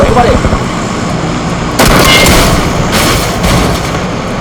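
Gunfire in PUBG on the Miramar map, heavy booming shots bursting in suddenly after a quieter stretch, then a second burst, loud and close over continuous game noise.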